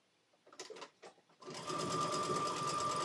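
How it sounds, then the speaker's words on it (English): A sewing machine stitches the last piece of cotton fabric near the end of its bobbin, running loud and steady after a few brief bursts of speech-like sound. "I'm going to sew this last piece here and then I'll pull the bobbin."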